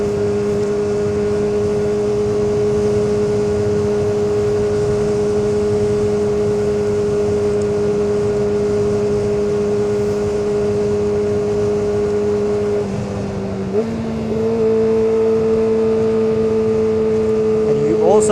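Yamaha R6 sport motorcycle engine droning steadily at a held pitch while riding, then a quick dip and step in tone as a gear is shifted without the clutch, close and loud.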